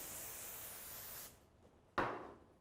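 Hairspray from an aerosol can misted onto a client's hair, two bursts: a soft steady hiss lasting over a second, a pause, then a sharper, louder short spray that fades out, close by with no talk.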